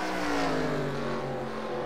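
Race cars in a stock-car racing game at New Hampshire, a loud sustained engine roar with a slowly falling pitch as cars pass close by, no talk.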